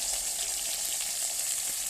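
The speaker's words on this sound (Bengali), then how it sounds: "তো প্রথমেই ভাঙান মাছগুলো ভালোভাবে ভেজে নিচ্ছি" Bhangan fish frying in oil, a close, even crackling sizzle that holds steadily for a couple of seconds with no voices.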